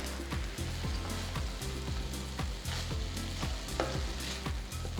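Crispy fried eggplant stir-fried in sauce over high flame, with a steady close sizzle under repeated rhythmic scrapes and knocks of the spatula against the pan, loud and continuous, with no talk.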